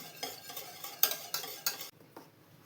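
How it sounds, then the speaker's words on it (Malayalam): A whisk or spoon stirs yogurt in a bowl for a curry with okra and yogurt, making several close, light scraping and clinking strokes in an uneven rhythm. The sound stops abruptly near the end. "ഒരു വിസ്ക് വെച്ചിട്ടോ സ്പൂൺ വെച്ചിട്ടോ ഇതുപോലെ ഒന്ന് കട്ടയില്ലാതെ ഒന്ന് മിക്സ് ചെയ്തെടുത്താൽ മതിയാവും"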